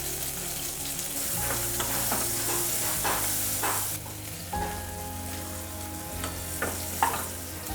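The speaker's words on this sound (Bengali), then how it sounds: "তারপর কিছুক্ষণ হলুদ দেওয়ার কিছুক্ষণ পরে একটু নাড়াচাড়া করে নিয়ে" Eggplant fries in a pan with turmeric and salt while a spatula stirs it, the steady sizzle running throughout and the scraping strokes coming in short repeated bursts, close and with no voice over it.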